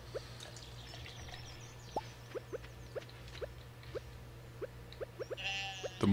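Stardew Valley farm ambience with a soft looping backdrop and faint rhythmic clicks, ending in a brief, clearer sheep bleat from the game.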